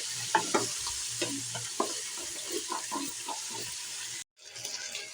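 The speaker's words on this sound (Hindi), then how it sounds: "इसका पानी खत्म होने तक हम मटन को भून लेंगे।" Mutton sizzles and fries in a pot while its water cooks off, with repeated scraping stirs against the pot over a constant hiss and no talk.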